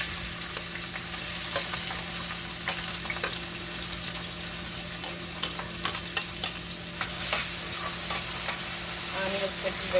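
Onions frying in hot oil for a ridge gourd curry, a constant close sizzle with scattered stirring scrapes and clicks, getting busier toward the end.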